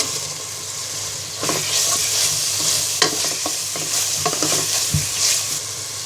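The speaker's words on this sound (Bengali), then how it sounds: "আমার মশলাটা কষানো হয়ে গেছে এখন দিয়ে দিব এক কাপ পরিমাণ টমেটো কুচি" Masala with chopped tomato being stir-fried for a Bengali snakehead fish and bean seed curry, a steady close sizzle broken by repeated scraping stirs of a spatula.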